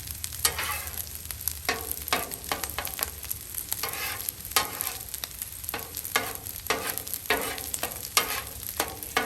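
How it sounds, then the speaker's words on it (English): Eggs scrambling on a Blackstone flat-top griddle, a steady close sizzle broken by repeated scraping and stirring strokes of a spatula at an uneven rhythm, with no voices. "Get these eggs scrambled up"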